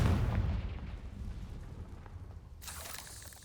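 A Confringo blasting spell explosion in the Hogwarts Legacy video game, a deep booming blast that fades into a rumbling tail, followed by a brighter hissing burst near the end.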